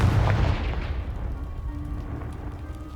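A Confringo blasting spell explodes in Hogwarts Legacy, a loud deep boom that rolls and fades into a rumbling tail, heard alone.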